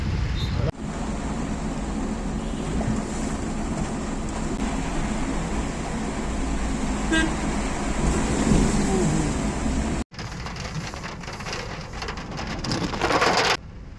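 Heavy rain pours steadily over flooded Karwar, India, with a dense, constant hiss, a brief cut partway through, then continues with some rumbling noise.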